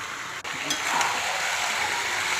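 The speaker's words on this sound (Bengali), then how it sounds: "আর এখন মটন কষানো হচ্ছে" Mutton sautéing (kosha) in a covered pan over a low flame gives a steady, close frying hiss that rises slightly after a brief dip near the start and then holds even.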